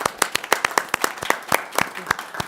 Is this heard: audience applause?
yes